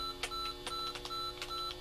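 Faint electronic beeping from the ZX Spectrum racing game Super Monaco GP, a series of short, thin tones in an irregular rhythm over a steady background hum.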